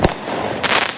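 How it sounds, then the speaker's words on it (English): Fireworks bursting outdoors at night, with a sharp, loud crack at the start followed by a crackling volley of pops, heard nearby with no talking. "fireworks."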